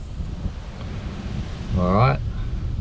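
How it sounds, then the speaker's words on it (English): Strong wind blows outdoors near trees, a steady low buffeting rumble against the microphone throughout, with a voice briefly speaking near the end. "it's a really windy day today"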